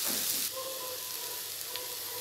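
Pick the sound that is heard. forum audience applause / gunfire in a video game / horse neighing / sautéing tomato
sautéing tomato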